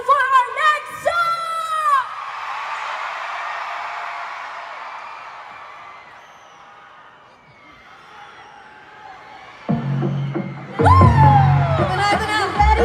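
A concert crowd screams and cheers loudly, a broad roar that swells and then fades. Brief shouts and a burst of music come at the start and again at the end.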